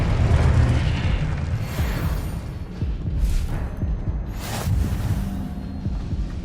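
Spell blasts and explosions in the video game Hogwarts Legacy boom and crackle in a series of low rumbling bursts, with a few sharper whooshing hits, heavy and continuous throughout.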